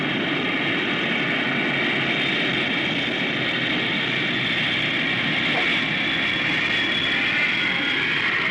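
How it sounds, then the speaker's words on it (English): Military F-102 jet fighters scrambling, a steady loud jet roar and whine holding throughout, broad and continuous with no voice heard. "In less than 5 minutes from first warning, armed F-102s are streaking toward target."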